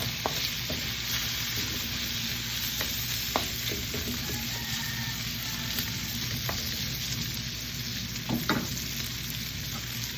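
Bottle gourd sautéed with sardines in a pan gives a steady, close frying sizzle that barely changes, broken now and then by scraping stirs and soft utensil knocks.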